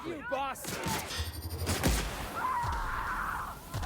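Gunfire in the video game The Outer Worlds comes as a few sharp shots and thuds amid game sounds and a voice, then a rising electronic whine, all at moderate level.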